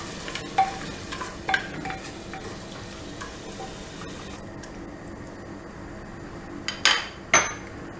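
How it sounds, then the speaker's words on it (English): Mutton pieces stirred with spices in a pot, a steady scraping and sizzling bed broken by a few sharp spoon knocks against the metal, close and fairly loud with no talking. "Mix this mutton pieces nicely"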